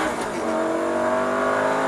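A Superleggera race car accelerates flat out on a track, its engine roaring loud and close in a sustained high-revving drone with no pauses.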